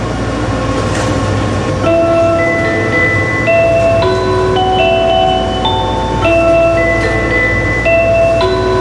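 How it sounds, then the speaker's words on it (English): A commuter train runs through Kyoto in the Switch game Japanese Rail Sim, its steady loud rumble overlaid with rising and falling electric motor whines in stepped tones, plus brief low clunks. "Japanese rail sim teaches you to drive a commuter train through 2 different lines through Kyoto"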